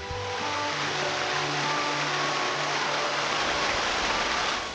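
A waterfall in Iceland roars as a steady, dense wash of falling water, loud and unbroken throughout with no voices.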